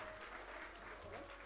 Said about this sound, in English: I think you can give them a better round of applause